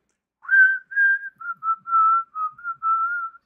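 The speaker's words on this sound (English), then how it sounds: "I was whistling along to it" A person whistles along to a song, producing a close, clear melody of sustained and short notes in a steady phrase with no other sound around it.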